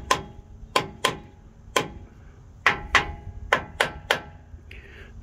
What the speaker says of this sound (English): tap on the cover